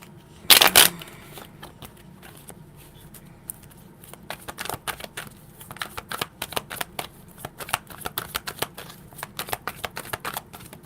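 A deck of tarot cards is shuffled by hand in a quiet room: a sharp riffle burst, then a long run of soft, irregular card slaps and flicks.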